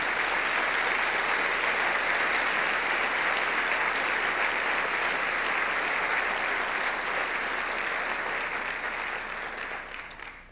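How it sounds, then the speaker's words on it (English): An audience at a 2019 State of the City address claps for local officials, including the bench, the school board and state representatives. The applause is dense, steady and sustained, then thins and fades near the end. "let's give them all a round of applause for their service"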